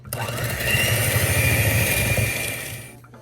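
An electric mixer beats an egg into creamed butter and sugar for a tomato soup cake batter, a loud, steady motor whir that runs for a few seconds before winding down and stopping.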